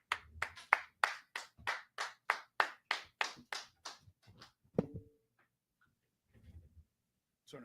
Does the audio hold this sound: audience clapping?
yes